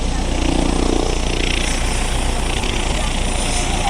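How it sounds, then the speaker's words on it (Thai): A police helicopter carrying a detained suspect in Bangkok makes a steady, loud rotor and engine drone that runs unbroken from start to finish. "ที่คุณผู้ชมเห็นอยู่นั้นคือเฮลิคอปเตอร์ที่ ใช้ในการ ควบคุมตัวนะครับ"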